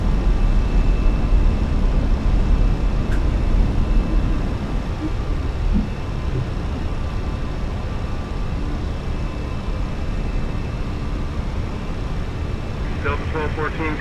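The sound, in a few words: Fenix A320 airliner taking off, video game Microsoft Flight Simulator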